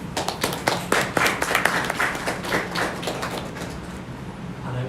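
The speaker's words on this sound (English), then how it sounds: "So a round of applause for that." Applause from a graduation ceremony audience, a dense burst of many hands clapping that is loud at first and then thins and fades toward the end.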